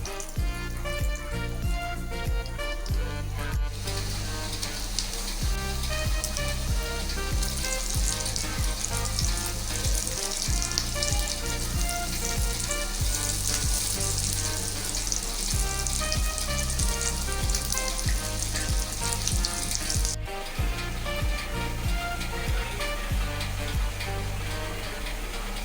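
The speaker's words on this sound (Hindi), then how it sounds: "और ये मैं शैलो फ्राई कर रही हूँ।" Beef shami kababs shallow-fry in oil in a pan, giving a dense, steady sizzle that runs unbroken for the whole stretch at an even loudness, with no one speaking.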